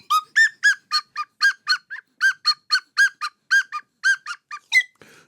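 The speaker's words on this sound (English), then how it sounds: "I was blowing on the slide whistle" A slide whistle is blown in a rapid series of about twenty short, honking toots with shifting pitch, loud and close, heard alone without talk.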